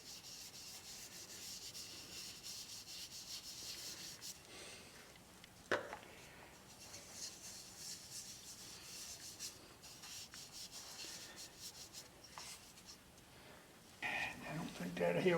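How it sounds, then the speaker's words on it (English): Soft, steady rubbing and scratching of sanding paste on a dry dogwood goblet, close and quiet, with a faint tap partway through. "what I'm using here is Axe sanding paste"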